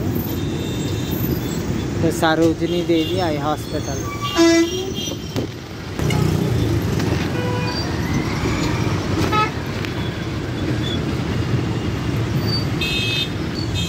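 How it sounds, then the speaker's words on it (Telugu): Dense city road traffic near a bus stop in Mehdipatnam, Hyderabad, with close horn toots over a steady roar of engines; someone talks throughout. "ఇక్కడ కూడా చాలా ట్రాఫిక్ ఉంటుంది, డెన్స్లీ ట్రాఫిక్ ప్లేస్"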